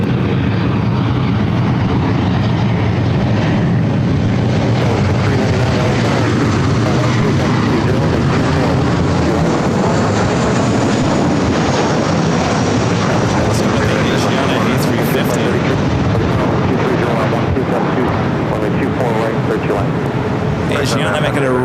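An Asiana airliner taking off from runway 25 right at Los Angeles airport, a loud, sustained jet roar that swells and holds, with radio chatter and talk underneath.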